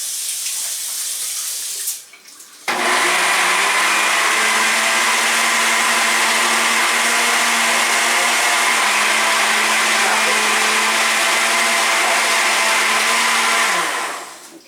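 A blender whirs loudly mixing a milkshake, starting abruptly after a brief clatter and running as a steady, close, roaring drone for about twelve seconds before winding down.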